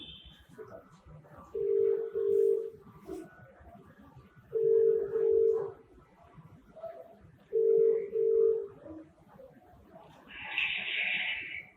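A telephone call being placed, with a steady ringback tone pulsing in three evenly spaced double bursts, followed by a brief higher electronic chirp near the end, over a faint background hum.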